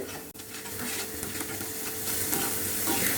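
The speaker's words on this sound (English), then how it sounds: "Now give a nice mix. Let the onions cook well." Sliced onions with green chilies and a little salt sizzle steadily in a pan while being stirred, a constant frying hiss with soft scraping and one brief utensil knock near the start, no talking.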